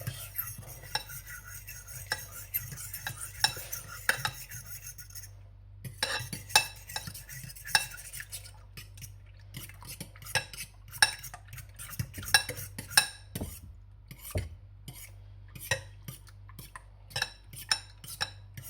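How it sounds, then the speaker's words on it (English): Eggs being mixed in a bowl for scrambled eggs in a home kitchen, with repeated scraping and clinking of cutlery against the dish in an irregular rhythm, close and fairly clear, sometimes with faint whispering. "Keep mixing it until it looks scrambled egg."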